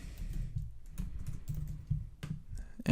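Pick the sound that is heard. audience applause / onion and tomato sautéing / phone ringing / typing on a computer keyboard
typing on a computer keyboard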